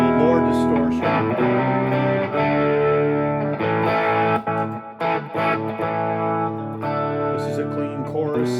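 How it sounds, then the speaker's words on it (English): Electric guitar played through a Nux Mighty Space amp with added distortion rings out in sustained, gritty chords and notes, loud and close, with short breaks between phrases. "A little more distortion."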